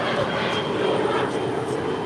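A fixed-wing airliner taking off at LAX from runway 25 right, a steady loud engine roar with broadband rumble that holds without pause, close and continuous, with faint radio-like voice traces underneath.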